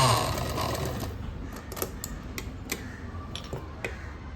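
Sewing machine running a straight seam on a fabric pouch, a steady mechanical whir with light ticking needle strokes, fairly close and continuous with no talk.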